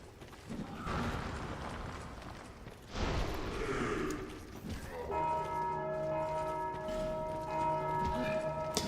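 Hollow enemies ring bells in Dark Souls 2, starting with rustling and clanking movement before sustained tonal bell ringing enters midway and keeps resonating to the end.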